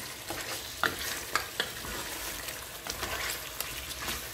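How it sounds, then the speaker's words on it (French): Pieces of meat frying in oil in a pan while making Central African koko na niama, a steady soft sizzle with a few brief stirring clinks and scrapes, close and alone with no talk. "Voilà, maintenant je vais griller."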